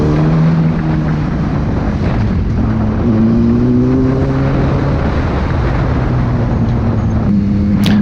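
A motorcycle ridden fast, its engine droning loud and continuous with rising and shifting tones, heavy wind rush over the microphone throughout, no talking.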